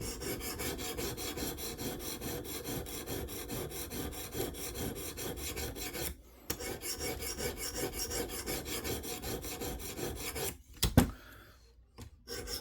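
A Knafs Lander 4 knife heel scrapes steadily across the stone of a KME guided sharpener in slow, even rasping strokes, close and quiet, with a couple of brief pauses.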